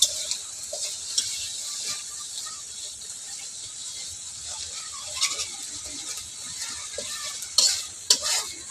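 Spices and sefa sizzle in a pan while being stirred, a steady hissing fry with occasional scrapes and clinks of the utensil against the pan, close by.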